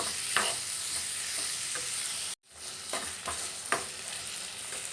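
Ridge gourd curry with milk being stirred in a pan after salt goes in, a soft continuous sizzle with a few spoon scrapes, briefly cut off midway before resuming.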